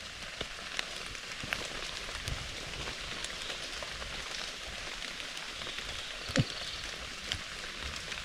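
Steady light rain pattering outdoors where mushrooms grow, a dense continuous patter of drops with occasional louder splashes, no voices.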